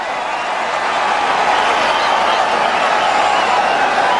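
A cricket crowd at a 2009 one-day international between India and Australia in Guwahati applauds a batsman's fifty, a broad steady wash of clapping and crowd noise under commentary.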